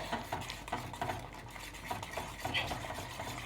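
A spoon stirs homemade ragi multigrain malt protein powder mixed into liquid in a pot, with soft, rhythmic scraping and swishing strokes, faint and close, and no voices.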